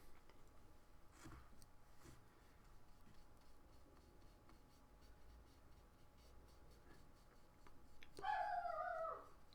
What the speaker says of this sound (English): dogs are either barking at a delivery person or barking at one of our cats